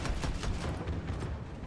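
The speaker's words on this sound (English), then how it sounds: "Oh, it's like a grenade launcher." A grenade launcher fires in the shooter Battlefield 2042, giving a quick run of muffled thumping blasts that merge into a low, rumbling rattle. The sound is fairly quiet and distant, and nobody talks over it.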